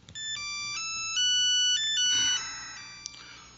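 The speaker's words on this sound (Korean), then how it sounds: "아침 일찍부터 어머니한테 전화가 걸려왔습니다" A telephone ringtone plays alone and clearly, a bright electronic melody of stepped tones repeating for several seconds with no voices.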